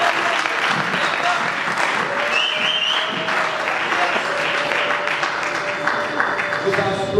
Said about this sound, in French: Les applaudissements veulent me dire quelque chose.